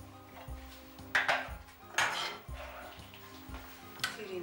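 A utensil stirs black rice with vegetables in a Zepter pot, producing repeated soft scraping and clinking strokes at an irregular pace, close by, with a quiet hum underneath.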